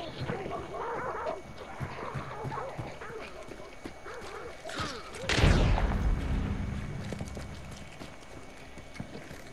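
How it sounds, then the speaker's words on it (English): A gunshot in the video game Hunt: Showdown cracks loud and close midway, its tail decaying over a few seconds, after softer rhythmic thumps and background game noise, with voices talking quietly throughout. "those shots are real close"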